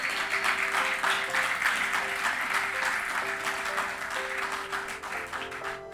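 Church congregation applauding during a sermon, many hands clapping together in a dense, lively burst, with a faint steady tone underneath, gradually thinning toward the end.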